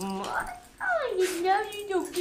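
A dog whimpers and yips in high, sliding, whiny cries close by, overlapping with affectionate human talk.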